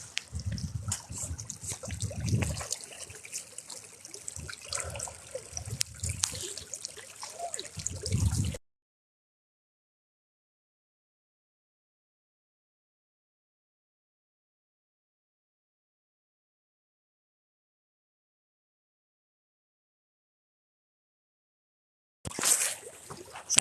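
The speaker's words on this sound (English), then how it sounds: "this is again a cute little creek." Small creek on the Rhododendron Lake to Rainbow Pond loop trickling and gurgling steadily at close range, then cutting out into a long silence before a brief burst returns at the end.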